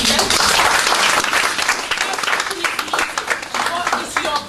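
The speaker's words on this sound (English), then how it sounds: "Clap for her, ladies and gentlemen" An audience at a business talk claps for someone speaker: loud dense applause at the start that thins into scattered individual claps, with a few voices mixed in toward the end.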